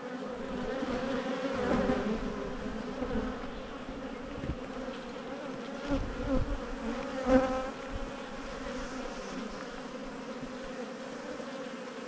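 Honey bees hum in a steady, dense buzz around an open hive full of pollen and brood frames, with loud swells as bees pass close by and a few low handling knocks.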